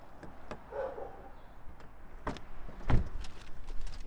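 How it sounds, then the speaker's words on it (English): A faulty car door opening and shutting: a few sharp knocks and clunks with one heavier thud near the end, over low background rumble. "I don't know what's wrong with my door"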